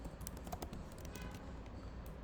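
Keys on a computer keyboard clatter in quick, uneven taps while someone writes PHP code, the clicks close and fairly quiet with no speech.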